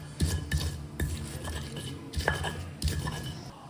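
Sugar and spices are ground in a mortar with a pestle for sambal, a rhythmic series of close, dull knocks and gritty scrapes roughly every half second.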